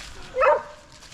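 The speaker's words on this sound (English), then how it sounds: "Wait for Rodney to stop barking." A dog named Rodney at a wild campsite gives a single short bark, moderately near, against quiet outdoor background.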